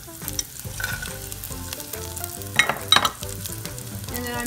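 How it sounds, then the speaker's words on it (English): Bacon sautéing in a pan for bacon jam, a soft steady sizzle and crackle with a few sharper pops and stirring clatters near the middle, close and moderately quiet. "So now you want to add the bacon back in."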